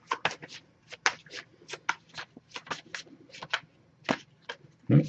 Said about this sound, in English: if I shuffle for a while without anything coming up